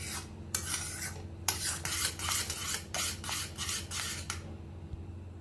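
Mango ice cream mixture being stirred in a pan as it thickens, with a spoon scraping and rasping against the pan bottom in repeated strokes, close and steady, over a low hum and with no talking.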